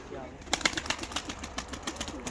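A tumbler pigeon flaps its wings in a series of quick, sharp bursts. The flapping comes close and moderately loud over faint background noise.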